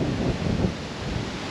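Strong wind gusting at Daintree beach, a steady close roar of rushing air buffeting the microphone, loud and unbroken throughout with no other sounds.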